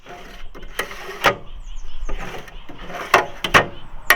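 Small narrow drawers on a Snap-on KR-657 toolbox slide open and shut in a series of close metallic clacks and rolling rattles, with several sharp clicks as each drawer stops.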